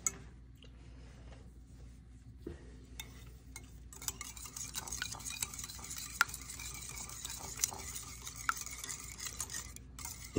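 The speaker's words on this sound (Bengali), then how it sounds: "এই 3টা ডিম ভালোভাবে ফেটে নিতে হবে।" Three eggs being beaten in a bowl, soft rapid tapping and whisking clicks that start faint and grow busier, quiet and close with no talking.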